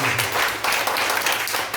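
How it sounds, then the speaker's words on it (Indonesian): A church congregation claps together in a short, dense burst of applause during a sermon, close and steady for under two seconds. "Berikan tepuk tangan Tuhan."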